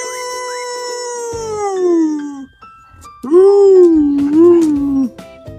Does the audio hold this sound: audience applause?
no